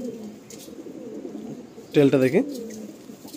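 An old Madrasi pigeon coos in low, soft murmurs from a loft, close by, while someone talks over it and a brief louder burst of voice rises near the middle.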